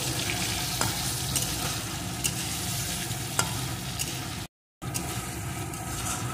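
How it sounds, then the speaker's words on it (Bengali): Ginger paste and spices fry and sizzle in a pan for a mixed-vegetable daal, a steady close hiss with occasional stirring scrapes and a brief gap of silence. "এখন এগুলোকে একটু ভেজে নেব।"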